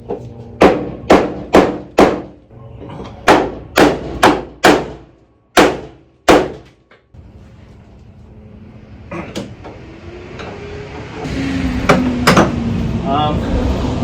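A dozen loud metallic hammer strikes on a rusty VW Karmann Ghia part ring out in uneven bursts, then stop, followed by scraping and a rising mechanical hiss.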